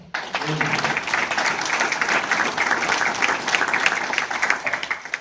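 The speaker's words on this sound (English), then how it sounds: "So let's give those people a round of applause." Audience applauding at a university hall of fame ceremony, a sustained roar of many hands clapping in a large room, with a voice briefly audible at the start.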